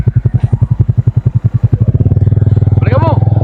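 A motorcycle engine on Jomalig Island, with a fuel problem and the gas switched off, chugs in loud, evenly spaced bursts, then picks up speed into a fast steady idle, close up, with a short voice near the end.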